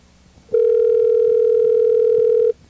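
A telephone rings with one loud, steady electronic tone lasting about two seconds. It stands alone against a quiet background.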